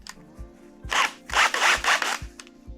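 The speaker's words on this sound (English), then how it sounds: "Drill it by hand." Rhythmic rasping strokes of a hand drill boring into scrap wood, several bursts in quick succession with brief pauses between.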